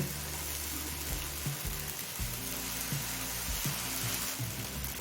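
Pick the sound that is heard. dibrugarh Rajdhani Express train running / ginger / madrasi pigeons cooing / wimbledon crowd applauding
ginger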